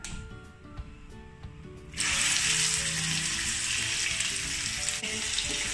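Indian gooseberry (amla) paste drops into hot ghee and sets off a sudden, loud, sustained sizzle that keeps frying steadily after a quieter start.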